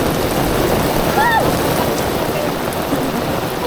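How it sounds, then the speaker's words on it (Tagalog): Heavy rain pours down at Bulusan Lake as a steady, loud hiss of falling water, with a brief distant voice rising faintly above it. "we thank you for all the rain"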